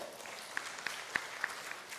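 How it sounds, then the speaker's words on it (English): Applause from an audience at an academic conference on multidisciplinary research: a quiet, sparse patter of individual claps with a few sharper hand strikes standing out, brief and fairly distant. "give a big applause to Professor Tom."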